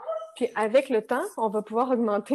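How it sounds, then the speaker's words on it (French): A small dog lets out soft little whimpers and yips nearby, mostly half-buried under a person talking steadily in French. "c'est mon chien qui fait des petits bruits"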